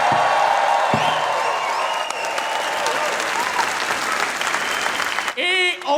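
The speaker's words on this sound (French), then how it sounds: "Fait que tout le monde en Saint-Denis, on fait du bruit, on applaudit!" A live audience at a Gong Show comedy taping at the St-Denis theatre breaks into loud, sustained applause and cheering. A voice speaks over the crowd before it thins out near the end.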